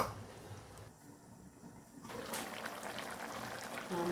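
Chicken varuval simmers in a pot in the liquid released from the chicken, giving a steady, moderately loud bubbling and hissing wash with no talking.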